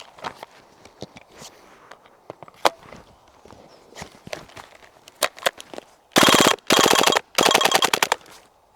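An Umarex/VFC HK MP7 gas blowback airsoft gun fires on full auto, emptying the magazine in three loud, rapid bursts close by, after scattered single clicks and handling noises.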